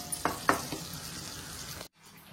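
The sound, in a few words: goat brain frying in a pan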